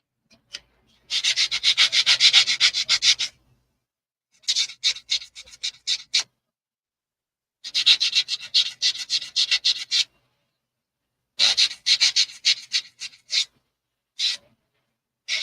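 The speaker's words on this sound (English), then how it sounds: "let me know if the sanding bothers you, and I'll mute while I'm sanding" Close, dry sanding in rhythmic back-and-forth bursts of rough scratching, separated by short silences, with no talking.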